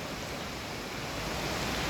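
A stream and a far-off waterfall make a continuous broadband rush of flowing water, steady and moderately loud, with no other sounds standing out.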